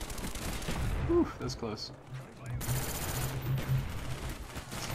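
Suppressed Galil rifle fire in Black Ops, a multiplayer shooter match, with repeated muffled shots and bursts running through the clip under a speaking voice.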